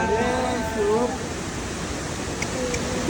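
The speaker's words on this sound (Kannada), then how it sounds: "ನೋಡಿ ಗೈಸ್ ಹೆಂಗಿದೆ ಫಾಲ್ಸ್, ಮಸ್ತ್ ಆಗಿದೆ ಗೈಸ್ ಫಾಲ್ಸು" A waterfall thunders steadily as a continuous, loud wash of rushing water that fills the whole stretch, with a voice talking over it at the start and again near the end.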